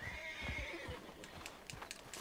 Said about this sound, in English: There you are, horse.